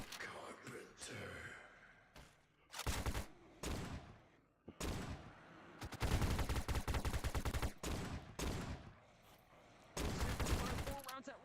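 Bursts of video-game gunfire in VRChat, loud rapid volleys in several separate clusters with brief gaps between them, mixed with breathy vocal sounds.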